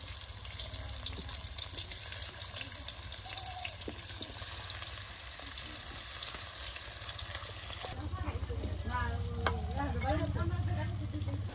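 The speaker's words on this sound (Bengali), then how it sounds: "এই যে এখন দেখুন আলুগুলো তেলে দিয়ে দেওয়া হচ্ছে" Potatoes for aloor bora (potato fritters) sizzle steadily in hot oil with a dense, even hiss. A voice comes in over the frying near the end.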